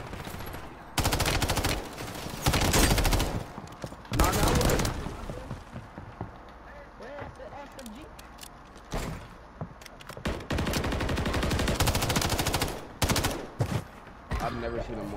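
Heavy gunfire in a Call of Duty MW3 Warzone match: repeated loud bursts of automatic fire separated by short pauses, with a voice talking between and over the shots.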